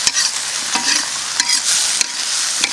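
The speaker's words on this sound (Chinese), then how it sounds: "好，把这倒下去，再炒一下就差不多了的。" Kung pao chicken stir-fried in a wok, bright crackling sizzle with repeated scraping stirs and sharp spatula strikes on the metal.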